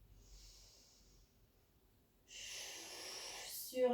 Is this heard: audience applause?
no